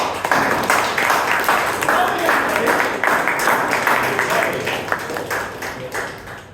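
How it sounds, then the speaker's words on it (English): Applause at a Bangalore Toastmasters club meeting for a returning past president, a sustained round of crowd clapping in an indoor hall that slowly fades toward the end. "Can we have a thunderous round of applause for Toastmaster Prashant Bhatt?"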